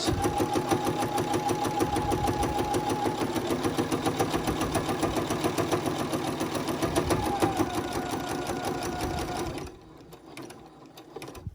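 A sewing machine stitches steadily over a zipper while a small Bitzy Bob is sewn, with a dense, even mechanical whir running for about ten seconds before it stops abruptly. Quiet handling noise follows.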